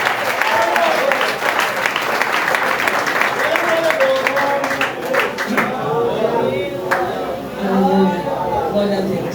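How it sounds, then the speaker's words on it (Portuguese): A church congregation claps loudly and continuously during an evening service, the applause running under a voice speaking and calling out over it. "Aplauda o Senhor nessa noite"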